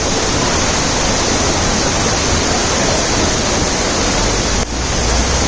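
River water rushes loudly and steadily over rocks in St Andrew, Jamaica, a dense, close, unbroken roar of flowing water with no other sounds.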